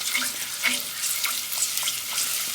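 Shrimp frying with fresh garlic, salt, pepper and olive oil in a pan gives a steady, close, moderate sizzle with faint crackles, and no voices over it.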